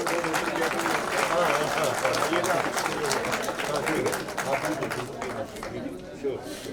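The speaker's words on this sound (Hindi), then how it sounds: "एक बार तालियां बजाओ पीछे।" A crowd at the Maha Metro office in Nagpur breaks into brisk applause, clapping close and fairly loud for several seconds while people chatter and talk through it before it tapers off.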